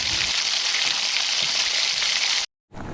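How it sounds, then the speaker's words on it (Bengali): Ginger paste and chopped tomato sizzle steadily in a hot pan, a dense, loud, continuous frying hiss that cuts out abruptly near the end before faintly resuming. "আর ভালো করে নাড়াচাড়া করে নেব, ভালো করে ফ্রাই করে নেব"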